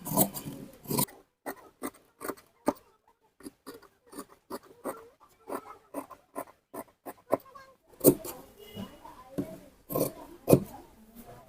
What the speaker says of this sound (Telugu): ఇప్పుడు మనం కటింగ్ చేసుకుందాం